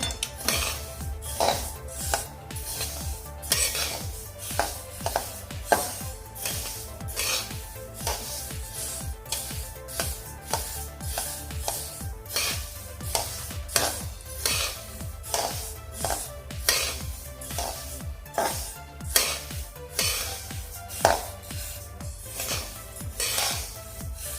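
Sesame seeds dry-roasting in a pan over a low flame while being stirred constantly, heard as a steady run of rhythmic metallic scrapes and clinks against the pan, close and moderately loud.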